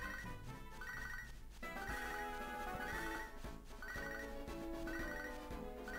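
An electronic phone ringtone from the video game Pokemon HeartGold chimes in repeated short warbling bursts, playing over the game's background music at moderate volume.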